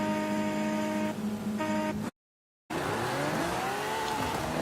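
A Lamborghini Huracan STO in the Forza Horizon 5 racing game revs loudly and squeals its tires, with a sustained engine drone broken by a short silent gap before the engine sweeps back up.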